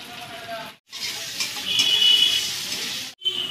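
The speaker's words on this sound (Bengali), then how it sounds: "মাংসগুলো হাতে করে ছাড়িয়ে নিয়ে কড়াইতে দিয়ে দেবো।" Chicken pieces with chopped chilli and salt fry in a wok for a spring roll filling, giving a steady, loud, hissing sizzle that swells in the middle and is cut by two brief silent breaks.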